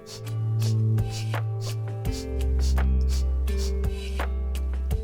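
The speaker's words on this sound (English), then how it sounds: "quickly sending the air out of the nose" Quick, sharp puffs of breath forced out through the nose by the belly push out in a steady rapid rhythm over sustained background music, during yoga breathing practice.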